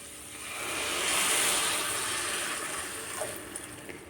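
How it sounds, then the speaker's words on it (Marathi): A glass of water is poured into a pan of vegetables while Maharashtrian-style spicy Maggi noodles are being made, giving a soft, steady splashing hiss that swells and then fades over a few seconds with no talking. "तर एक ग्लास पाणी घालत आहे"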